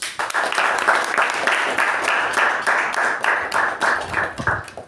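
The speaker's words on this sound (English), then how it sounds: "let us give our Associate Sergeant at Arms a round of applause" A crowd applauds steadily for several seconds, a dense wash of many hands clapping at once, fairly close and loud.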